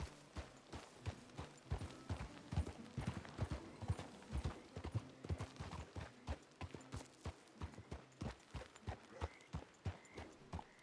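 A horse in The Frontier RP video game clip-clops at a steady walking rhythm, hooves striking in an even, continuous stream at close range.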